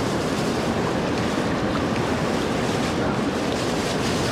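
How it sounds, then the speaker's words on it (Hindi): Water poured over apples beside a cold river, a steady broadband rush of running water filling the scene continuously, loud and close with no pauses. "इसमें पानी डालूँगा मैं"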